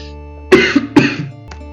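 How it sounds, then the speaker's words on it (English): Two sharp, loud coughs close to the microphone, followed by a softer throat sound, then quiet. "hopefully the coughing is under control"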